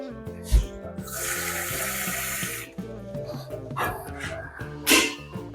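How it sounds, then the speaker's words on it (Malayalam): Water streams steadily into a pan of jackfruit ada for a couple of seconds, with a dog barking and household clatter around it. "ഈ പാനിയിൽ ഇച്ചിരി വെള്ളം കൂടി ഒഴിക്കട്ടോ"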